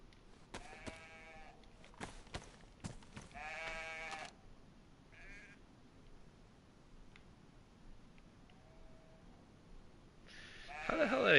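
Several goat bleats in the video game DayZ come in short bursts over a quiet ambient background, then a louder rising noise at the end.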